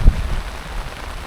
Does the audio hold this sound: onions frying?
no